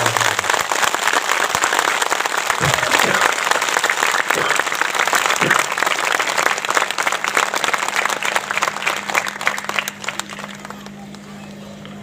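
Dense, sustained applause from an audience at a devotional discourse and bhajan gathering in Bastar, loud and continuous for about ten seconds before thinning out, with a low steady hum beneath.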